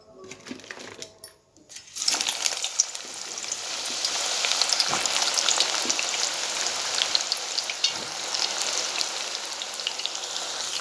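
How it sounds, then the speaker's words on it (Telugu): Bitter gourd pieces, seeds included, fry in oil over a medium flame with a dense, steady crackling sizzle. A few clatters come first, then the sizzle holds close and loud with no talk. "మీడియం ఫ్లేమ్ పైన ఫ్రై చేస్తున్నాను"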